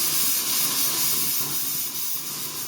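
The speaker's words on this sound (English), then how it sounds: "Now just sit and wait until we get air coming out of this from both the hot and the cold water side." Steady, loud broadband hiss of air and steam rushing out of a water line during winterization, continuous throughout with no voices.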